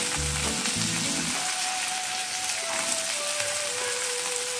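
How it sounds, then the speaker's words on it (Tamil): Peeled green field beans (mochai) drop into a frying pan with a few soft bumps at first, then a steady, close oil sizzle runs on alone without talk. "அரை மணி நேரம் ஊற வச்சு தோல் நிற்கிய பச்சை மொச்சைக்கொட்டை அதை இதில் போட்டுக்கிறோம்"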